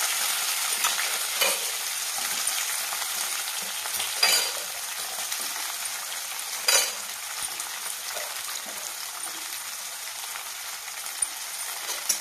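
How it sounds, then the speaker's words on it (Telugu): Chopped onions, green chillies and dried red chillies frying in a pan while a spoon stirs them, a steady close sizzle broken by a couple of sharp scraping clinks of the utensil against the pan. "ఆనియన్స్ వేసిన తర్వాత ఇలా కలుపుకుంటున్నాను"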